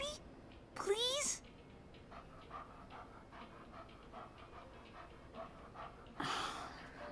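A puppy pants in quick bursts close by, with a voice briefly rising over it near the start and again near the end.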